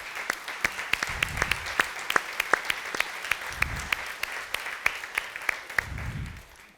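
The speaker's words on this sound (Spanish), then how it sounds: "Un aplauso" Applause from a small audience after a lecture, sparse, distinct claps in a loose uneven rhythm rather than a dense roar, lasting several seconds with a few soft murmurs underneath.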